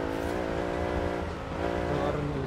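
Car engine in Forza Horizon 4 held at high revs with a manual gearbox, a loud steady harmonic drone that dips briefly and climbs again, with no gear change.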